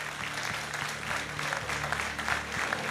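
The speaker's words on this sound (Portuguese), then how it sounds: "Aplauda ao Senhor." Church congregation applauding during a celebration worship service, a steady wash of clapping held at moderate level for about three seconds, with a low sustained organ or keyboard tone underneath.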